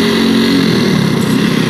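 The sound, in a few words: motorcycle engine while riding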